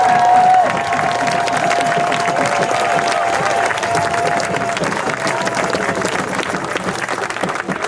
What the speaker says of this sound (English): One more big round of applause for Jewel James